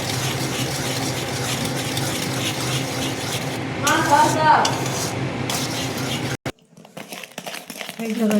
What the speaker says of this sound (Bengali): গুড়টা অনবরত এইভাবে নেড়ে যেতে হবে